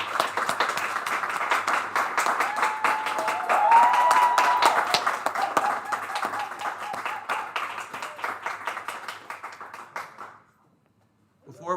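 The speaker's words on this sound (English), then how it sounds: "Can we give another round of applause for our contestants for the Miss Black and Gold 2021?" A pageant audience applauds its contestants at a Miss Black and Gold scholarship pageant, with dense, sustained clapping and a few cheers that run for about ten seconds, then fade out, followed by a short pause.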